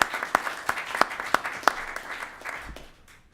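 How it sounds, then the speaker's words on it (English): Audience applause for a panelist at a panel discussion on joint ventures to end homelessness, with distinct sharp claps over a steady patter that fades away toward the end. "Can we give her a round of applause as well?"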